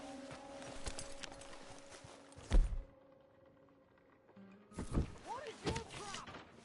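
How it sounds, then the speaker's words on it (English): Horse hooves clip-clopping in Red Dead Redemption 2, a few heavy thuds and hoof strikes in two bursts separated by a quiet gap, with voices talking over parts of it. "My horse!"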